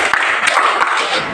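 Students in a classroom clap in unison, a steady wash of close, loud hand claps with a few sharper individual slaps standing out.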